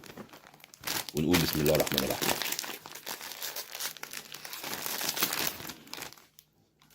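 A plastic snack bag of Lulu Puffs crinkles loudly as it is torn open, a dense rustling that swells and lasts several seconds while someone speaks over it.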